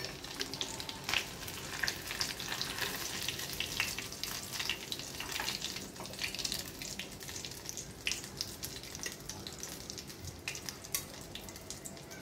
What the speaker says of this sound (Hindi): दूसरा फ्राई कर रही हूँ, देख लीजिए।